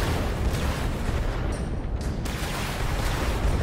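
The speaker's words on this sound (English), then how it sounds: "Oh, they're seekers too. Sweet. Press right trigger to fire missiles." A mech in the Vox Machinae VR video game fires seeker missiles, a loud, continuous roar of launches and blasts that carries on steadily from start to finish.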